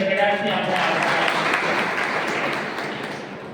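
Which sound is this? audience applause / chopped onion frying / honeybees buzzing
audience applause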